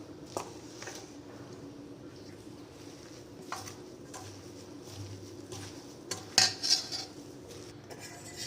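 A spoon clinks and scrapes against a bowl while spinach stuffing is mixed with chili powder, turmeric and lemon, faint and intermittent, with pigeons cooing in the background.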